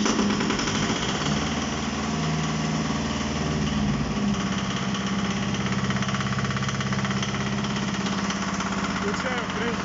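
A two-cylinder mini tractor engine, which starts without a clutch, fires up and runs at a loud, steady clatter close by throughout.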